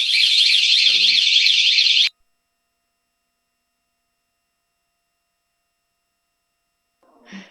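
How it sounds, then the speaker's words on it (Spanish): A fire alarm sounds loud and steady with a warbling electronic tone for about two seconds, then cuts off abruptly into silence, followed by a faint brief noise at the end. "Es una alarma de incendio, me parece."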